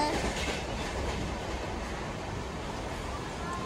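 Train running on rails, heard from inside an emptied compartment of the Nagercoil–Mumbai CST special, a steady loud broadband rumble with faint clickety-clack continuing throughout, no talk.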